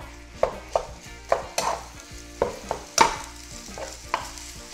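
Rice for yakimeshi is stir-fried over eggs in a hot pan, sizzling steadily while the spatula scrapes and knocks in a loose rhythm of about ten sharp strikes, close and fairly loud.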